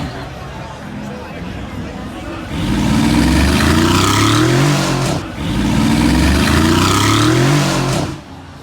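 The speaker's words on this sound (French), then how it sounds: "l'accélération du Gebrabus 700 là, vraiment bien énervé" A Brabus 700 G-Class accelerates loudly on a Monaco street during Grand Prix weekend, its engine roaring in two strong surges over background crowd chatter and voices.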